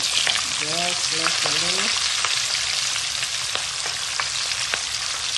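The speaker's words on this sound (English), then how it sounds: "And so now we're gonna fry our vegetables." Vegetables sizzle and fry in a little oil in a wok or pan for sweet and sour chicken, a steady bright hiss with occasional stirring clicks, while a person speaks briefly near the start.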